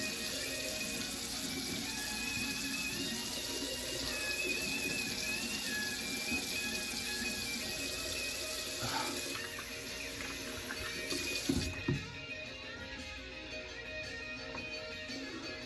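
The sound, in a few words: water running from tap while wetting face for shave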